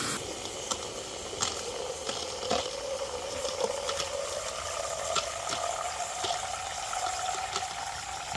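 Container being filled with water from a flowing source for watering garden plants, a steady gushing rush with a slowly rising pitch as it fills, continuous and fairly close, with faint scattered clicks.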